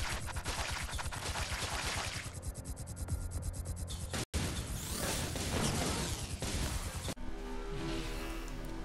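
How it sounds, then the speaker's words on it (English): Photon Missile fire in the R-Type Final 2 shooter game: a loud, dense rush of rapid pulsing shots and roaring whooshes, briefly cut off midway, then a tonal electronic tail at the end. "The Photon Missile is a large and powerful missile that when fired, it drops below the craft, then launches and speeds forward on its own"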